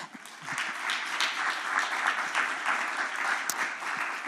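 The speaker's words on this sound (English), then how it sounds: "join me in the round of applause to our brilliant speakers" A room full of people at a foreign policy conference applauds steadily, dense clapping sustained for several seconds at moderate volume.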